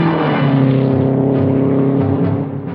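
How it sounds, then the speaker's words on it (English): Two 1960 Indianapolis 500 race cars roar along the track at speed, a loud, steady, close engine drone with a slight swell and dip in pitch, heard alone without voices. "the 2 hottest cars on the track get up to speed"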